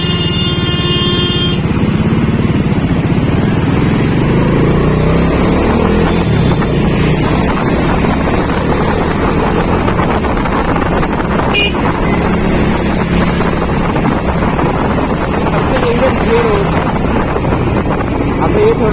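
A motorcycle, a Dominar 400 or Yamaha MT15, rides slowly on a road near Mahabaleshwar with a steady low engine drone buried under heavy wind buffeting on the microphone and a brief horn early on.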